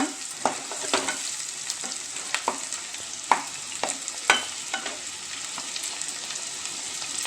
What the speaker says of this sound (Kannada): ಸ್ವಲ್ಪ ಫ್ರೈ ಆಗಬೇಕಿದು. ಇದು ಗೋಲ್ಡನ್ ಕಲರ್ ಬರ್ತಾ ಇದೆ.